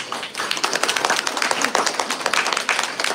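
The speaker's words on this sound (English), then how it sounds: "So let's give Diana a round of applause" An audience at an anniversary appreciation and awards celebration gives a round of applause, loud, dense clapping filling the room steadily, with a few voices mixed in.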